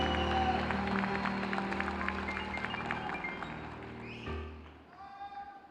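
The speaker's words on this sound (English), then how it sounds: "One more round of applause for the 2019 graduates of the Master of Science in Finance" Applause for graduates at a 2019 business school commencement ceremony, a sustained crowd clapping with busy overlapping taps that fades and thins out after about four seconds, with faint tones lingering.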